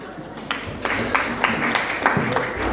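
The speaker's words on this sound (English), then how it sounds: "Give her a round of applause" Scattered audience applause at a stand-up comedy club, a modest crowd clapping steadily at moderate volume with individual claps standing out.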